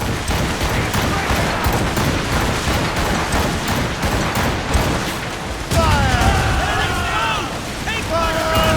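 A naval cannon volley from sailing ships in Assassin's Creed Rogue, a dense continuous rumble of booming shots with crew voices shouting over the battle.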